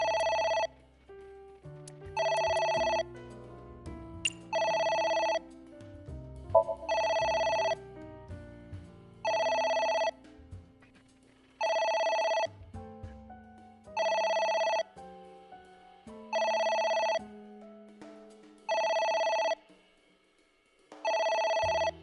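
Telephone ringing in the video game Ai: The Somnium Files, a bright electronic ring repeating in nine regular bursts about two and a half seconds apart, fairly clear over a quiet low musical background.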